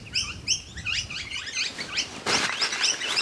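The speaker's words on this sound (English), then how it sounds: "Those birds are having a great time, celebrating life on a beautiful day." Several birds chirp and tweet outdoors on a sunny day at a plein air camping spot, with quick bright calls repeating close by. A louder burst of rustling or wind noise comes in near the end.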